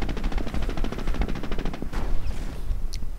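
Gunfire rattles through a WWII real-time strategy battle, with rapid machine-gun bursts in tight repeated volleys, then scattered shots and a sharp ricochet-like ping near the end, loud and close.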